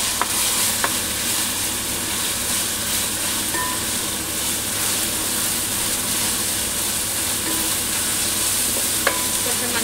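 Chicken curry masala frying in oil for a green chilli gongura chicken, giving a steady, dense sizzle with occasional stirring scrapes, close and fairly loud with no talking.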